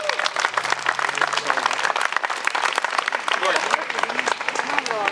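Audience applause following a speech at a groundbreaking ceremony, a dense, steady clapping from a crowd that fills the whole stretch at a constant level with scattered voices mixed in.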